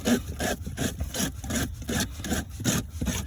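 A mesh filter from an Action unit, gritty with dirt and grime, scrapes and rasps as it is worked free of its frame in a steady run of rough rubbing strokes, close and fairly loud with no talk.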